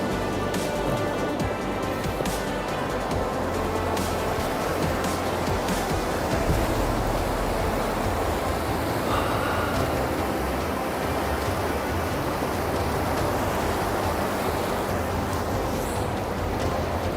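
Ice-cold river water rushes steadily in Kumrat Valley, Pakistan, a loud, continuous broadband roar of flowing water close by with no clear breaks.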